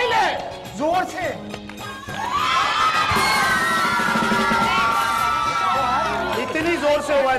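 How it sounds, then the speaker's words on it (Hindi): A crowd of children cheers and shouts loudly for a gift at an Eid special event. The sustained roar of yells and whoops swells after an adult voice speaks briefly at the start. "गिफ्ट चाहिए तो तालियां बजाइए, शोर मचाइए"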